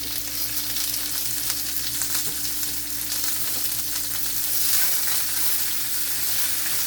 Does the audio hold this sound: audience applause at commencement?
no